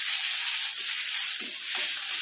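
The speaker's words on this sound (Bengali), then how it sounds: "এটা আরেকটু ভেজে নিয়ে ফিরছি।" Tomatoes frying in a dry pan with no oil, giving a steady, soft sizzling hiss throughout with a few faint stirring scrapes near the end.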